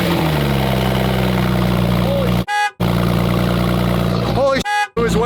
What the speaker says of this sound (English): That's a real cold start.